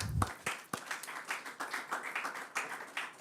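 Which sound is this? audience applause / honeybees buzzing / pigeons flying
audience applause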